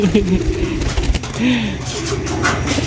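Homing racing pigeons back from a 106 km training race coo at the loft in low, rounded calls that swell and fade, with a person talking nearby over a steady outdoor background.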